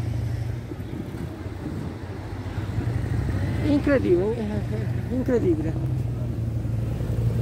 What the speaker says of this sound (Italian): anche traffico di macchine